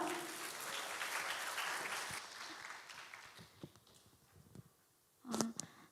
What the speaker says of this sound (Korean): 박수로 이 자리로 모시도록 하겠습니다.